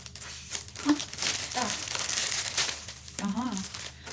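A plastic-wrapped pack of party balloons from a Temu parcel is torn open, producing close crinkling and rustling of plastic while someone talks over it.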